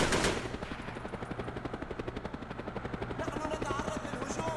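Rapid sustained machine-gun fire in the video game SOCOM US Navy Seals, a steady rattling burst of evenly spaced shots running throughout, with a heavy thump at the start.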